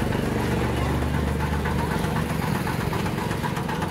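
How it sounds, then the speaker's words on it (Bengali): A generator runs a pump that presses out sugarcane juice outdoors, giving a steady, close, rumbling engine drone with a knocking throb that holds for the whole stretch, with faint voices in the background. "জেনারেটরে পপ করে পাম্প পাম্প করছে আর ওখান দিয়ে আখের রস হয়ে বেরোচ্ছে"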